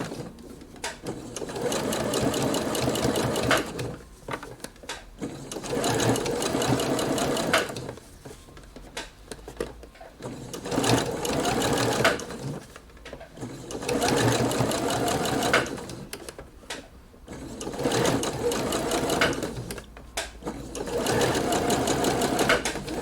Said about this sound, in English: now I can go back to my sewing machine and I can stitch it all the way around